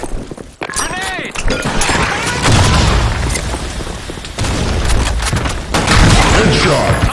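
Grenade blasts and rapid gunfire in a Halo-style capture-the-flag multiplayer match on a sandstorm map, loud dense bursts and booms running almost continuously over the whole stretch, with voices and game announcer callouts mixed in.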